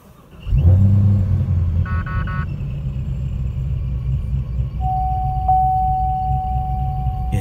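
A 1,000hp Hennessey Exorcist, a supercharged ZL1-based Camaro, fires up with a loud burst and then settles into a deep, steady, close rumbling idle.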